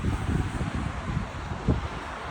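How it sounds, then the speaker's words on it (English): Strong sea wind buffets the microphone on a walk near the Seven Sisters cliffs by Brighton, a loud continuous rumbling gust with occasional louder bursts and no talking. "it's very windy. I think it's the wind coming from the"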